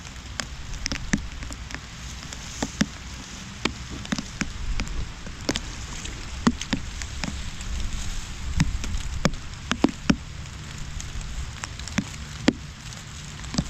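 Rain falls steadily in the Philippines, a soft continuous patter with scattered louder drops striking a surface nearby, and no voices.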